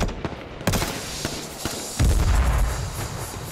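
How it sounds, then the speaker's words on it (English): Gunfire in the battle royale game H1Z1: a string of sharp, close shots crack out one after another, then a heavier booming burst with low rumble takes over for the last second and a half. "They're shooting at me."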